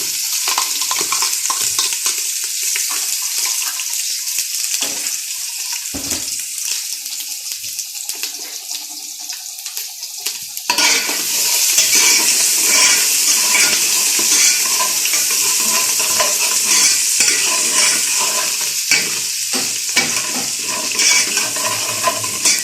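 Garlic, onion and ginger sauté in a pan for pinapaitan, a steady sizzle that swells louder partway through, with stirring scrapes and occasional clinks, close and continuous without talk.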